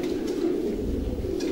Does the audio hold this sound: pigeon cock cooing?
yes